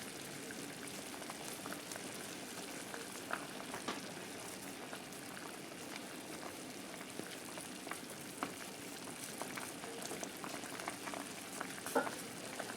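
Turkey bone broth bubbles at a steady boil in a small pot on the stove, a continuous soft, crackling simmer with scattered pops and no talking.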